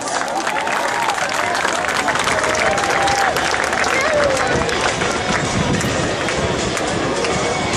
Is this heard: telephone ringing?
no